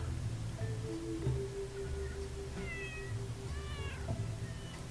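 Cat meows in a cat-themed video game, several short high mewing calls rising and falling over a steady background music bed, fairly clear and close.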